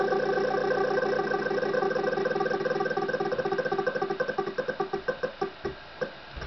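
The prize wheel in the Wheel of Fortune NES video game spins with a rapid train of electronic clicks that gradually slow and spread apart until the wheel stops, heard alone.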